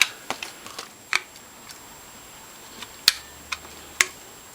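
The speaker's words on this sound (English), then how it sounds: "the next step is to tighten these bolts in the back with a torque wrench" A torque wrench tightens the back bolts of a Norwalk juicer to about 35 inch-pounds, giving a handful of sharp, isolated clicks spaced irregularly over quiet background.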